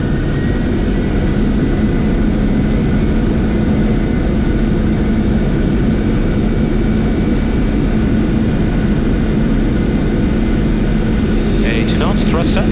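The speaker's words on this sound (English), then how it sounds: "My controls and set takeoff thrust, please." Boeing 747 jet engines spooling up toward takeoff thrust, a loud continuous roar heard from the cockpit, steady and dense throughout, with a brief crackle of radio or cockpit noise at the end.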